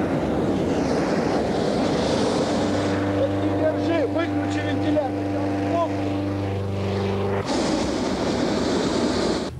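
A powerful burner-driven fan roars steadily as air is forced into a hot air balloon envelope, with a continuous loud whooshing broken by a tonal hum and a voice talking over it.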